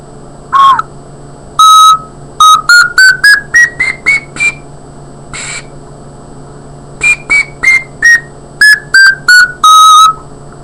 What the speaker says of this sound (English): when I'm making the ocarina, I play it a little bit to test it out